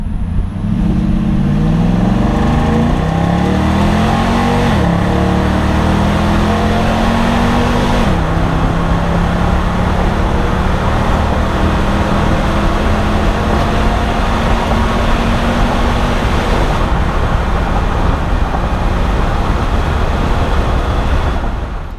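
Lifted truck accelerating hard on a full 0 to 100 mph run, a loud, continuous engine roar climbing in pitch through several gear changes, with wind and road noise building underneath.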